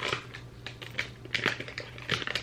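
Heavily wrapped skincare and makeup packaging is cut open up close, giving a run of scratchy, crinkly snips and tearing clicks, no talking.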